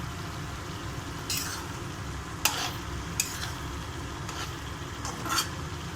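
Chopped ivy gourd and chana dal fry in a pan, giving a low steady sizzle with a few sharp scrapes and clinks of a spoon stirring at intervals, close and without speech.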